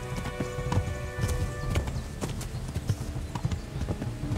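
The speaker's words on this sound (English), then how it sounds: "When riding, you can give your horse its head and it will stick to the path you're on" Horse hooves clip-clopping in an even, rhythmic gait while riding in the medieval game Kingdom Come: Deliverance, fairly close and steady throughout, with a faint whinny and ambient background.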